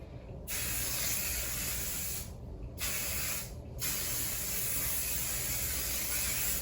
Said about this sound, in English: I'm gonna do hairspray.